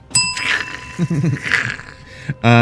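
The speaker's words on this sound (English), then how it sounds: "Ring the bell" A bell on a see-through Holo-War toy figure rings once, loud and close, with a bright ringing tone at the very end, after a stretch of casual talk.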